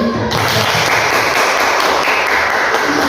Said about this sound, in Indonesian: Mari kita sebelum mulai tepuk tangan dulu yuk